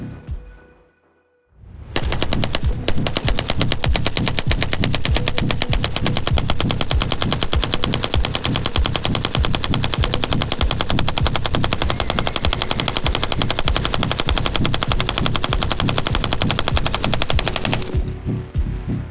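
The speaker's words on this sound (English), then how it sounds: "Going hot, 200 rounds, continuous string, hopefully Lima 6, will we get a cook-off?" A suppressed Lima Six belt-fed machine gun fires a continuous 200-round string. After a brief quiet lead-in, a loud, unbroken, rapid roar of shots lasts about sixteen seconds, close by.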